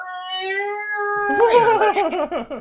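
A cat meows in a long, drawn-out tonal call, then breaks into a rapid string of wavering, yowling cries, close and fairly loud.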